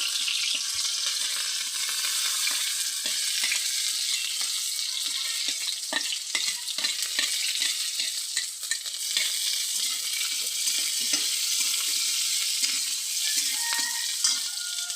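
Onion, garlic, green chili and curry leaves fry in hot oil with a steady, full sizzle, broken by frequent scraping stirs of the spoon through the pan. No voices are heard.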